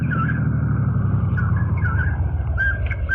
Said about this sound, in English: Oh, hey, I hear a car coming.